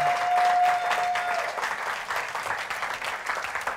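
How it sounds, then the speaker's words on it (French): A church congregation applauds the fathers in the hall on Father's Day: a dense, steady wash of clapping from many hands, loud and close, with a brief thin whistle-like tone over the first second and a half. "est-ce qu'on peut applaudir les pères?"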